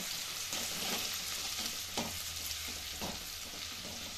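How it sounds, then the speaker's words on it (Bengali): Grated ginger sizzles steadily in hot oil in a pan while being stirred, a dense continuous frying hiss with a few soft scraping strokes, close and alone with no talk, during chilli chicken preparation. "গ্রেট করা আদা 1 টেবিল চামচ, এটাকেও আমি নাড়াচাড়া করে নিয়ে"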